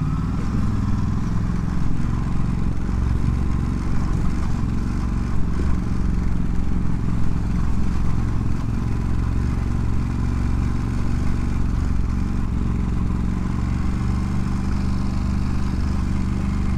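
Steady, close engine drone from a 2022 Ducati Monster Plus being ridden, a constant low rumble mixed with wind buffeting that holds evenly without clear revving changes.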